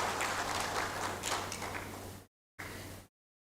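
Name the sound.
summit audience clapping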